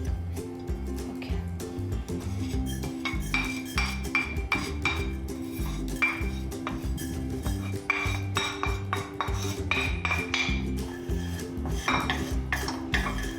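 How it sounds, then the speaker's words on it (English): Whole spices being roasted together in a pan over a medium flame, stirred with a utensil that clinks and scrapes against the metal in quick, irregular strokes, close up and fairly busy throughout. "So in a medium flame, I'm roasting all the masalas together"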